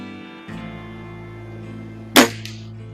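A single sharp crack from a Walther LGU spring-piston air rifle firing a pellet on a bench test, with a short ringing tail over a steady low hum.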